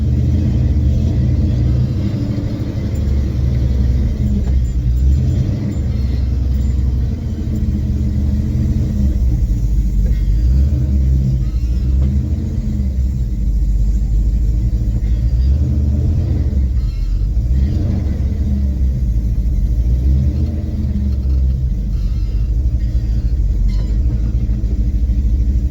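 A square-body Chevy pickup truck's engine gives a deep, steady rumble throughout, close and loud, with a low throb that swells slightly now and then.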